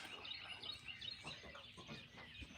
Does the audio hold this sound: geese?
yes